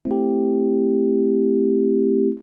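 One held electric piano chord in Ableton 11 with no effects, clean and steady, sustaining for a couple of seconds before cutting off, with no other sounds.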